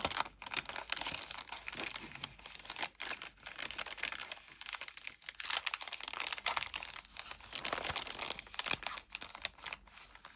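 Plastic sticker packaging crinkles and crackles as steampunk-style craft stickers are unwrapped by hand, with irregular close rustles and crunches, no talk.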